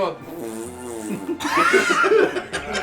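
A voice imitates a fart with a buzzy, blown raspberry sound, mixed with laughter and chuckling as people talk around it in a podcast conversation.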